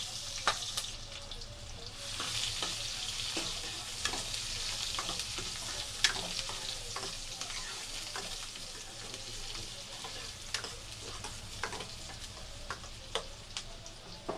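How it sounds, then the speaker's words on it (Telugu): Onions frying in well-heated oil for a chicken curry give a dense, steady sizzle throughout, with scattered sharp crackles and pops and occasional stirring ticks, close and even, with no talking. "ఇప్పుడైతే ఆయిల్ బాగా హీట్ అయిపోయింది కదండి, ఇందులోకి అయితే ఆనియన్స్ని అయితే యాడ్ చేసుకుంటున్నాను."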